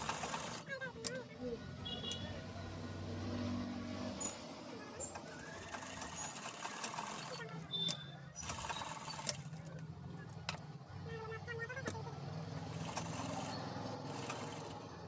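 A sewing machine stitching the zipper side of a half pant, heard as short mechanical whirring runs with clicks between them, close and fairly quiet, while someone speaks over the work.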